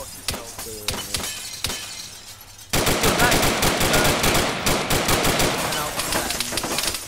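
Rapid automatic gunfire raking a vehicle in ARMA 3, sharp cracks and shattering impacts, sparse shots at first and then a loud sustained barrage.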